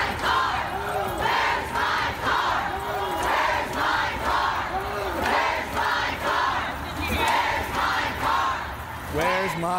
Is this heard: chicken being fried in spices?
no